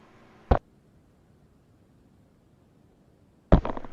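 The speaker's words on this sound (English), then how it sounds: "I feel like I need to sneeze" A person sneezes in a sudden, loud broadband burst after a long near-silent pause. A brief, sharp intake or pre-sneeze sound comes first, and the final burst is the louder and longer of the two.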